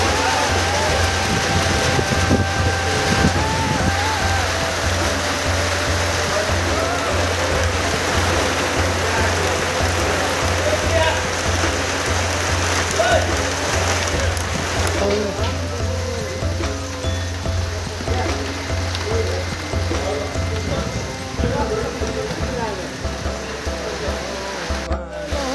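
Heavy downpour of the season's first big rain in Chaurjari, a dense, steady roar of falling water close by that holds loud for the whole stretch, easing slightly toward the end, with a voice talking over it.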